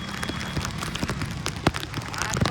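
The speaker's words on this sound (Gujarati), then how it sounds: "વરસાદ ફૂલ છે" Heavy rain patters and hisses on a city road in Surat, India, with scattered sharper drops and splashes, close and continuous.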